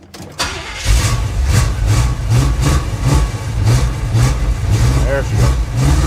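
A 1977 Chevy Monte Carlo engine catches after cranking and runs roughly, with repeated revs rising and falling over a steady low rumble, close and loud, as people talk over it.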